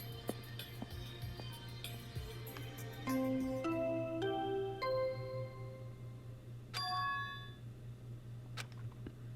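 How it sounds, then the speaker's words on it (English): A chiming bell signal in the video game Danganronpa 2, a sequence of bright tones stepping through a short melody over a steady low hum, fairly loud with no talk. "That bell just now."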